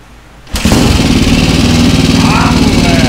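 A Honda Titan motorcycle with a 353cc reversed engine fires up abruptly and settles into a loud, close, steady running idle with a rapid even throb that lasts to the end.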